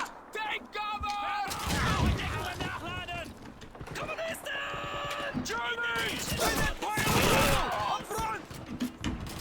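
Grenade blasts and bursts of gunfire from the 2005 video game Call of Duty 2, a loud chaotic barrage of explosions and rattling shots, with a voice speaking over the battle.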